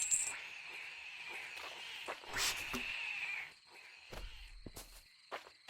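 Frogs in the Loveland video game, with a steady chorus of croaks and chirps, joined by a few sharper clicks and croaks near the end, and no talking.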